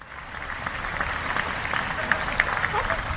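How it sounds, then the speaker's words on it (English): A crowd applauds at a historical battle reenactment, giving a steady, moderately loud round of clapping with some voices mixed in. "the round of applause probably means that's the end of the battle"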